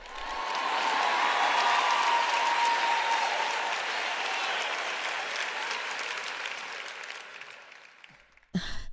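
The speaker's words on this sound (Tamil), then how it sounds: "இங்க நீங்க சத்தமா கைத்தட்டணும்." A church congregation claps loudly during a sermon. The dense applause swells quickly, holds strong for several seconds, then slowly fades.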